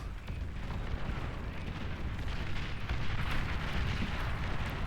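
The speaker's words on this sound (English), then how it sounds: "this artillery piece is actually getting in its value." Artillery fire in the real-time strategy game Beyond All Reason, a dense, continuous rumble of overlapping shell blasts and booms that stays loud and steady throughout.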